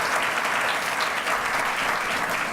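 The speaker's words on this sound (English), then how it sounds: "Let's give Mickey one more round of applause" Guests at a Latino leaders luncheon give a round of applause, steady and full clapping from a sizable crowd that holds at an even level throughout.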